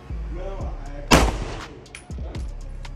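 A 9mm pistol firing Federal Punch ammunition into ballistic gelatin blocks, giving one loud, sharp report that rings out briefly. Voices are heard just before the shot.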